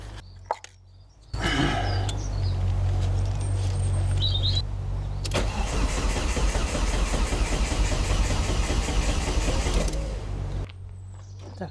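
A turbocharged Volvo S40 engine with a Holset HX40 turbo and Speeduino ECU cranks over and over in long loud bursts, a rough churning roar with a short pause between attempts, never catching.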